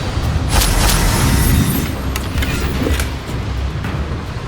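A loud, rumbling blast from the Confringo spell in Hogwarts Legacy opens with a heavy boom, then tails off into a roaring wash with a few sharp crackles.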